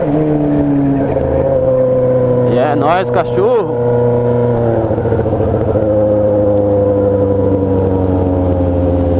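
A Honda Hornet motorcycle fitted with a new exhaust idles with a deep, steady drone, then revs sharply in a quick burst of rising and falling throttle blips, loud and close, with someone talking over it.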